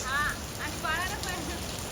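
Steady rain of the season's first shower falls nearby as a dense, even patter on surfaces, with faint chirping and other sounds threaded through.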